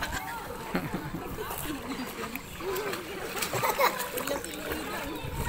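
Children splash in water while bathing, a busy, steady wash of splashes and sloshing close by, with voices talking and calling over it throughout.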